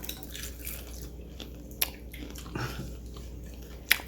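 Crunchy fried chicken and noodles being chewed up close, with soft biting and crunching sounds and a couple of sharp crisp cracks, quiet and without talk.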